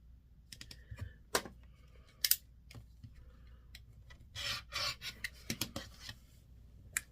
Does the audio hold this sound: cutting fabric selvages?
yes